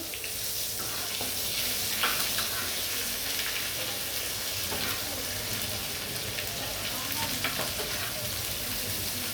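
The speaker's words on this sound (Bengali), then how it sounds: "আমি হালকা ভাজা দেবো মাছটিতে।" Rohu fish pieces fry in a pan for Bengali rohu curry, a steady dense sizzle held throughout with a few faint scrapes, close and with no voices.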